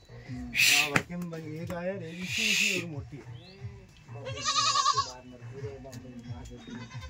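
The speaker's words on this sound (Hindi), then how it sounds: "भाई फेमस बकरी है" Sirohi goats bleat loudly several times, the calls wavering and nasal, close by, with people talking amid livestock noise.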